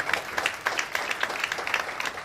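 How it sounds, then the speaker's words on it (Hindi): Applause from an audience at a business gathering, somewhat sparse with individual claps standing out in an uneven rhythm, moderately loud and steady for a couple of seconds with no talk over it. "मिस खोमेश्वरी मैडम के लिए जोरदार ताली"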